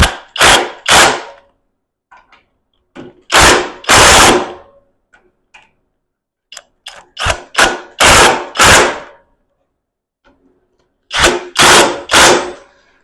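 A socket tool tightens bolts on a shortened VW pan buggy in loud, sharp, close bursts, mostly in groups of two or three, with quiet gaps between them.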